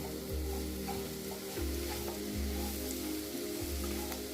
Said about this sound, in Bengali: সুজি দিয়ে সবজি দিয়ে নেড়ে নিচ্ছি